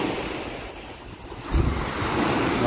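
Sea waves wash steadily against the shore in a strong wind, with a loud gusty rush and a surge of surf partway through, with no voices.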